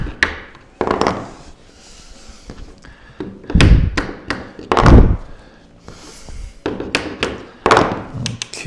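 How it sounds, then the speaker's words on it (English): A persuader mallet knocks a wooden cabinet face frame into place, landing a series of sharp, heavy thunks at irregular intervals, some in quick pairs, close by with quiet shuffling between blows. "Get our persuader over here and knock that into place."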